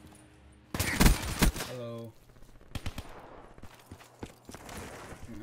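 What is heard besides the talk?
gunshots in a shooter video game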